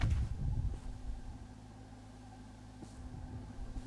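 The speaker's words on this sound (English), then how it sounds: "That's the noise of a generator?" A low, steady mechanical hum drones quietly with a faint rumble beneath, a generator running nearby in a video game, Dreamcore, with no voices.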